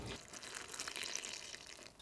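Warm water is poured into flour for bread dough, a soft, close, continuous trickling splash lasting about two seconds, fairly faint.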